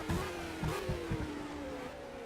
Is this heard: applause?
no